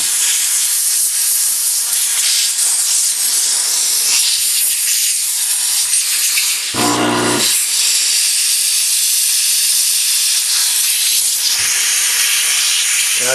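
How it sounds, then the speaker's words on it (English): A steam cleaner sprays pressurized steam over a gun around the trigger, producing a loud, continuous close hiss with a brief dip and sputter midway, and no voices. "it splatters everywhere because of the steam and the pressure"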